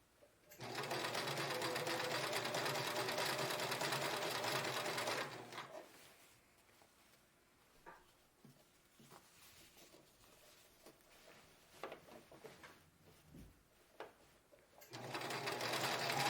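A sewing machine stitching elastic on boxer shorts runs in a long steady burst, pauses for a stretch of quiet handling noises, then starts stitching again loudly at the end.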